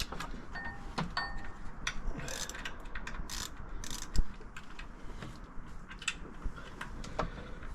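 Ratchet clicks while hand-tightening water pump bolts on a 2019 Dodge Challenger Scat Pack Shaker, with rapid metallic ticking in short runs and close clanks of tools against the engine, and no talking.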